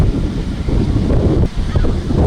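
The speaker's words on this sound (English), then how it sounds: "Very windy out today." Strong wind at an outdoor holiday parade in Carpinteria buffets the microphone in a steady, rumbling roar with gusty swells, loud and close throughout.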